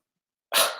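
A dog gives one sudden, loud bark that cuts through silence and then trails off quickly.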